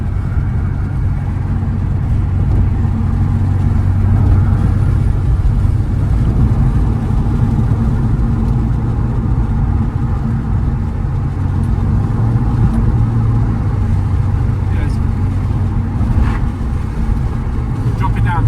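Porsche 911 engine droning steadily from inside the cabin as the driver shifts up a gear, a constant low rumble with road noise throughout and speech mixed in over it.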